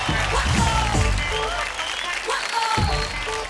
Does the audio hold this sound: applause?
yes